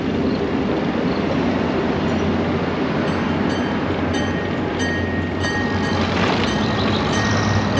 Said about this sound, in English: A lot of fun to ride this train.